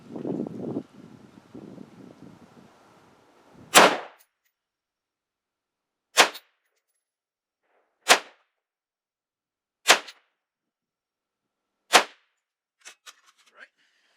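Five sharp AR-15 rifle shots during an ammunition accuracy test, spaced about two seconds apart, loud and crisp against near silence after some brief faint rustling at the start.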